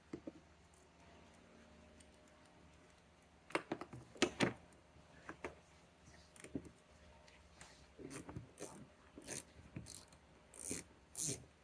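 A ratchet clicks in quick bursts while removing a 7mm bolt from the rear bumper cover of a 2017-2023 Chevrolet Bolt EUV, close and fairly quiet, with scattered mechanical taps between runs.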